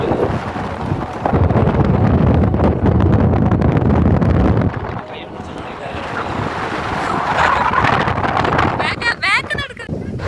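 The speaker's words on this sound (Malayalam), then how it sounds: "ഇപ്പോൾ ഭയങ്കര കാറ്റ്, ഭയങ്കര കാറ്റാണ്" Strong wind roars and buffets the microphone in loud, continuous gusts in Palakkad, Kerala, easing briefly before surging again, with faint voices underneath.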